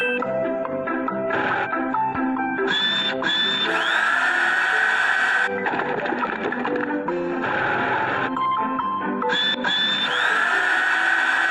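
A cartoon construction vehicle's drill attachment whirs and buzzes in bursts over upbeat music, stopping and starting several times across the passage.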